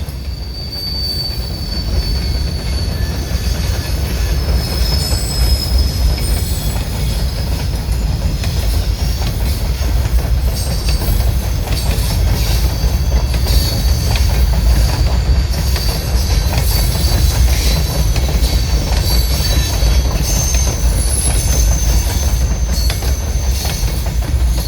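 A Reading and Northern overnight freight train rolls past at close range, a dense continuous roar of rumbling wheels and steel with high wheel squeal that stays loud and steady as it gathers speed, with no voices.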